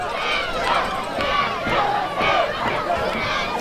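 Fans at a high school boys' soccer state semifinal roar and shout in a dense, surging crowd cheer with swelling waves of voices, loud and continuous throughout.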